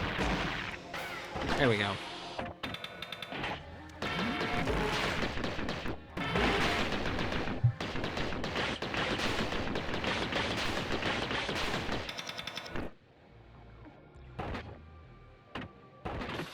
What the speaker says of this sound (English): we can do 3 rockets now